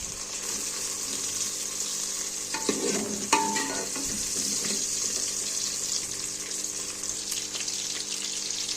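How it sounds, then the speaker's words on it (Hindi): Onions browning in hot mustard oil with whole garlic and ginger stirred in, a steady close sizzle and fry with a few sharp clinks of a utensil against the pan, no voices. "यहाँ पे हमारा प्याज ब्राउन हो रहा है, तो फिर हम इसमें डालेंगे लहसुन अदरक।"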